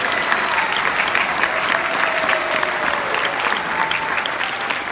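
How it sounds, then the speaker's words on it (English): Parents in a school auditorium give a round of applause for the concert band at a winter concert, steady, even clapping from a large crowd heard at moderate distance without talk. "Let's hear another round of applause for the concert band who played for the band tonight."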